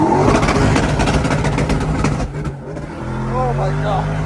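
A drift race car on a shakedown run roars hard on the throttle, its engine climbing and dropping through a quick gearshift. The sound is loud and close, with voices talking over it.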